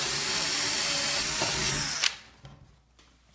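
A power drill whines steadily as it bores through wood with a 1/2-inch bit, then stops abruptly, leaving faint clicks and handling noise.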